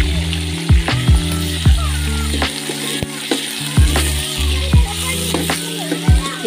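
Onion frying in hot ghee gives a continuous loud sizzle, broken by rhythmic clanks and scrapes of a spoon stirring against the pan every half second or so.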